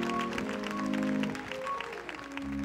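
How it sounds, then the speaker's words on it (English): Church congregation clapping their hands at a convocation service, steady applause with music underneath. "Will you clap your hands for them in that order?"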